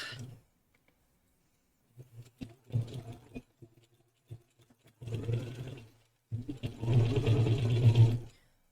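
A sewing machine stitches fur for a costume tail in short bursts, pausing between runs, then one longer steady whir near the end, close up with no talking.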